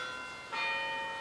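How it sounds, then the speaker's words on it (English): A church bell rings with a steady, sustained resonant hum, and a fresh strike swells the tone about halfway through, with no voices over it. "Can you hear the bells?"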